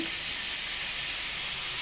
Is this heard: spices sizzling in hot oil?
yes